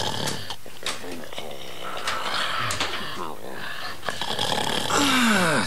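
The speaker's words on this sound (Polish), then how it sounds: "A któż to tak chrapie?" A voice acts out loud, rasping snores for the wolf in a children's radio play of Little Red Riding Hood, with rhythmic breathy rumbles and a whistling exhale, close and continuous over a background of noise.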